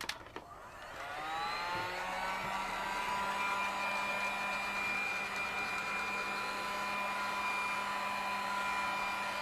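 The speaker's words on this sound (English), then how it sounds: "Get my heat gun plugged in." A heat gun drying polymer clay switches on near the start and runs as a loud, steady whir for the rest of the clip, with no talking.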